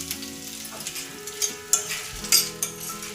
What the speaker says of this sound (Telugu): చిన్నగా కట్ చేసుకుని అల్లం ముక్క అయితే ఫ్రై చేసేస్తుంది